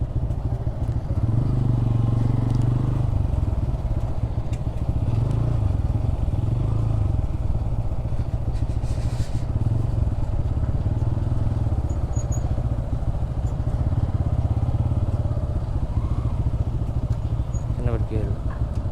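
A motorcycle rides a winding hill road to Sajek, its engine droning steadily and loudly throughout with wind rumble and road clatter.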